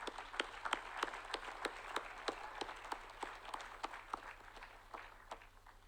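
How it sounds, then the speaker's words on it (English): Sparse, scattered clapping at a college commencement ceremony, individual claps distinct and irregular rather than a full ovation, heard at a distance and fairly faint over a low steady hum. "parents, friends, family, give yourselves a round of applause"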